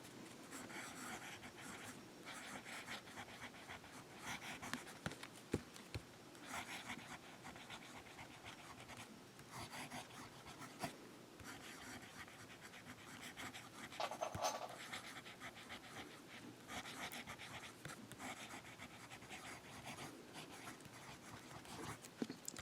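A fountain pen fitted with a Jowo medium nib scratching faintly across paper, a soft continuous rustle of strokes that goes on and off against a quiet room background.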